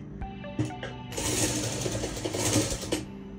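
Sewing machine stitching fabric for a potli bag, starting with a few clicks and mechanical knocks, then a steady close whirring run of stitches for about two seconds before slowing, no voices.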